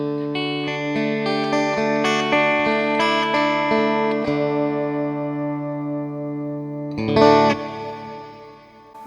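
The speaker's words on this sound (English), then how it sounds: "it's just a reverb" Clean electric guitar run through a Boss TAE Core with only reverb added, sustained chords ringing out with a long, shimmering decay, then a fresh strummed chord near the end, loud and without talk.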